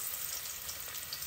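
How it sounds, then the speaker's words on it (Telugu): Coconut pieces frying in ghee in a pan, a steady dense sizzle that stays even and close throughout, with no voices. "అందులో మన కొబ్బరి ముక్కలు వేసేస్తున్నాను అనమాట."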